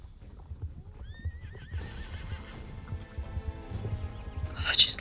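A magic horse with fiery hooves in a video game gives a loud, high whinny followed by clopping hooves and game effects, up close, ending in a bright shimmering chime.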